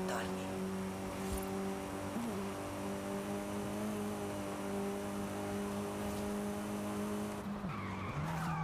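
A car drifts with sustained tire squeal and skidding in the Forza Horizon 5 racing game, the engine droning steadily underneath at a constant loud level, with a brief shift near the end.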